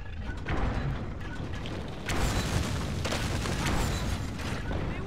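A ballista cranked and fired in the video game Dragon's Dogma, with a continuous mechanical grinding and creaking rumble and heavy thumps at a couple of points, loud and dense throughout.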